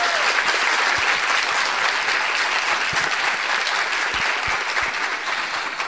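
A live studio audience applauds a teacher honored as the country's best, a dense, steady wash of clapping that holds strong for about six seconds, then eases slightly at the end.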